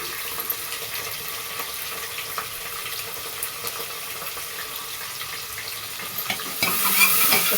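Onion and green chilli sautéing in a pan for moong dal khichdi, a steady soft sizzle with faint stirring scrapes throughout, growing a little louder near the end.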